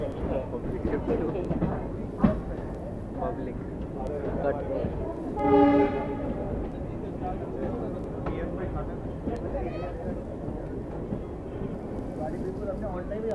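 A train rumbles into platform 5 at Hisar Junction railway station in India amid a busy crowd of voices, with a brief horn blast midway and a sharp metallic clank earlier.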